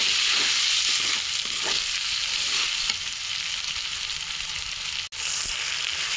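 Spice masala for ghugni fries in oil with a steady, close sizzle and occasional stirring scrapes that run unbroken for several seconds.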